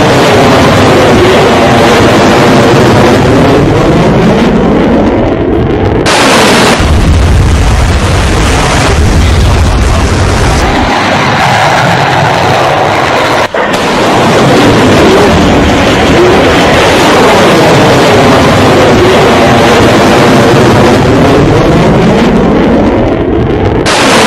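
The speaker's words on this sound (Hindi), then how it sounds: "अमेरिका का परमाणु मिसाइल टेस्ट आप देख रहे हैं" A US Minuteman III nuclear missile test launch gives a loud, continuous, distorted roar that swells and fades in waves, with wind-like rumble and a sharp crack near the middle.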